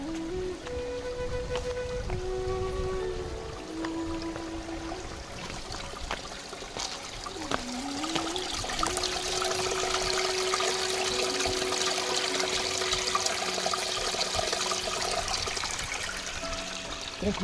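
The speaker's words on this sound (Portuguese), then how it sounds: "Tranquilizante o som de água a correr." A river stream at Pego das Pias in Odemira, Portugal runs over small stones with a steady, close trickling and bubbling flow that grows fuller partway through, while faint tonal sounds drift over the top.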